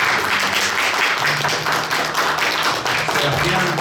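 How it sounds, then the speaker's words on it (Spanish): Live audience applause for Blog del Misterio at the opening of an in-person podcast evening, dense continuous clapping throughout with a faint low hum or murmur beneath it. "Un fuerte aplauso por favor para Blog del Misterio."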